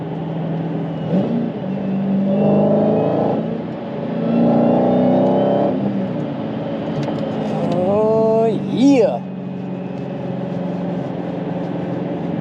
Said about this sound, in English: Gets a little bit of rev match action.